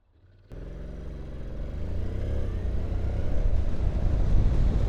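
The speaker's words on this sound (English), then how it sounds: "I never get dull of pulling back the throttle on these Mighty NCs." A Honda NC motorcycle pulls away as the throttle is opened, a close engine note rising steadily in pitch and loudness over a few seconds, heard alone without talk.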